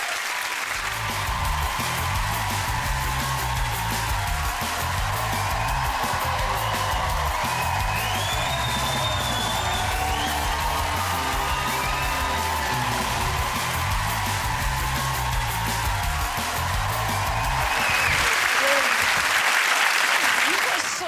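A studio audience at a TV chat show gives a sustained, loud round of applause with some whoops for actress Anna Friel, the clapping dense and continuous before swelling near the end.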